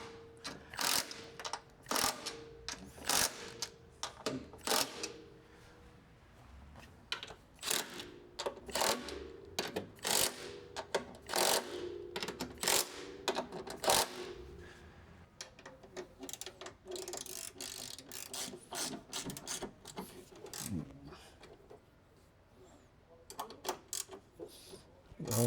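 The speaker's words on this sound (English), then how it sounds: "I'm going to tighten these bolts here on the tops of the strut towers" Ratchet clicking in quick bursts while tightening strut tower top nuts on a Nissan R34 Skyline, sharp repeated pawl clicks with short pauses, close and fairly loud, no talking.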